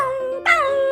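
A dog yelps sharply after being hit by a piece of bread, a short high whimpering cry with a strained, howl-like tone, loud and close with no speech.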